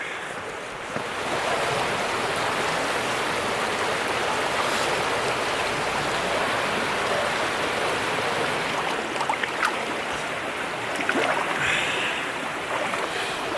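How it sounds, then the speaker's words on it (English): Hot water bubbling and churning in a steaming thermal spring pool in Serbia, fed by a very hot pipe. It makes a steady, close, broadband rush that runs unbroken for the whole stretch, with no talking. "So where I'm sat is bubbling and got a really hot pipe feeding it."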